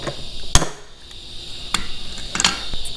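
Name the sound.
riveting new hinges onto a Seadoo jet boat hatch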